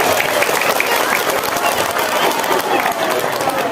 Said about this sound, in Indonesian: Berikan yang semangat, tepuk tangan untuk para panitia di Sampalen